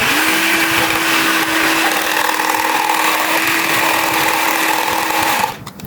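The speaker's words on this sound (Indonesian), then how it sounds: "Setelah itu kita aduk menggunakan hand mixer." Electric hand mixer whisking milk and creamer, a loud, steady motor whine with a constant hum that runs unbroken for about five seconds and then cuts off abruptly.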